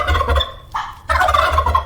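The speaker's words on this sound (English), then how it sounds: "Who's gobbling with that funny sound? Is it a turkey, a swan, or a duck? That's right, it's the turkey." A turkey gobbles close and loud in two rapid, rattling bursts separated by a short gap.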